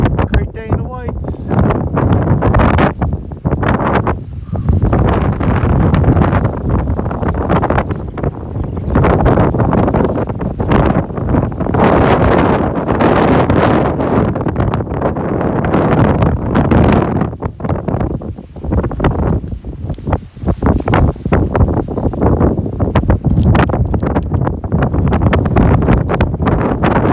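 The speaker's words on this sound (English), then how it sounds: "the wind is definitely making it a little bit colder" Strong wind at the summit of Mount Bond in New Hampshire's White Mountains buffets the microphone in loud, rough gusts that roar without a break, while a voice sounds intermittently underneath.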